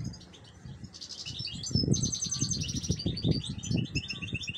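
Caged goldfinch and its chicks chirp steadily in rapid bright trills and tweets, joined by bursts of low fluttering and rustling that grow louder toward the middle, with no voices.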